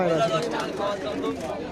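Pigeons coo softly in a low, rolling murmur at a pigeon market in Madhyamgram while a person talks over them close by.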